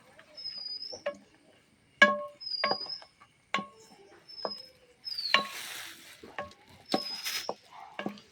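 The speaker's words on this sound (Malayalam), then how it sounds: "ഇനി ഇത് നമുക്ക് നന്നായി ഇളക്കാം." Food being stirred in a pan, heard as scattered scraping and tapping strokes with brief squeaky scrapes, separated by quiet gaps, close and moderately soft.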